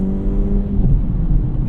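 Engine of an Acura Integra Type S running, a close, steady, fairly quiet hum with a faint rising tone, heard alone with no talking.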